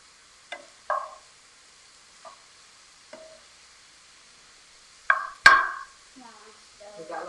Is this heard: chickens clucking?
no